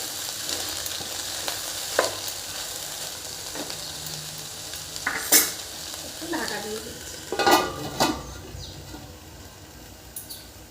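Water spinach dropped onto fried garlic in a pan and sautéed, a steady close sizzle under repeated stirring scrapes and clinks that swell in the middle and fade toward the end.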